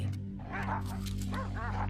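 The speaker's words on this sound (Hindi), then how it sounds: "शिकारी कुत्ते," Hunting dogs in the wild yip, whimper and bark close by in quick, high-pitched bursts over a continuous low background rumble.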